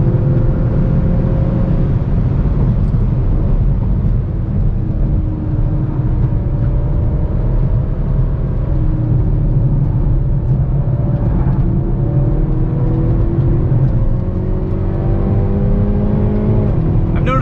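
A 2022 Hyundai Veloster N with an 8-speed dual-clutch transmission accelerates on a racetrack, its engine a steady loud drone with rising and falling revs as gears shift, close and continuous throughout.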